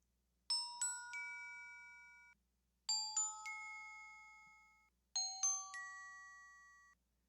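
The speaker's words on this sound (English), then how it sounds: "This is the bells coming up." Synthesized bells in a music production track: three separate bright chimes, each a quick cascade of struck tones that ring out and then stop abruptly, on a quiet background.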